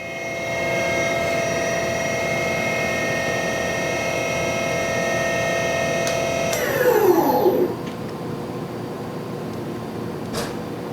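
A Doosan Puma 2600SY multi-axis CNC turning center spindle spinning at 2500 RPM gives a steady high-pitched whine with layered tones, then winds down in a falling sweep toward the end, leaving a quieter hum.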